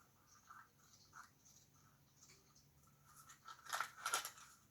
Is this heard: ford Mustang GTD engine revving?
no